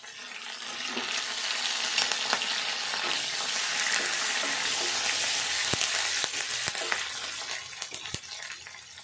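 Curry leaves crackling and sizzling in hot oil for an egg gravy, a dense, steady hiss with scattered sharp pops and a few stirring clicks, close and without speech.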